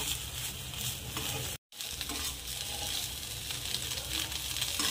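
Soybean chunks frying in hot oil in a wok, giving a steady, close sizzle with scraping stir strokes throughout, interrupted by one brief silent gap.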